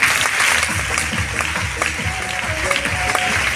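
An audience claps loudly and continuously for several seconds, a dense, even applause heard close with no talking.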